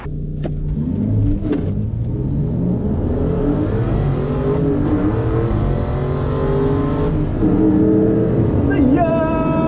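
A BMW M235i racing a blue Challenger at a track day, engines droning and revving steadily with rising and falling pitch, a continuous loud rumble of cars at speed.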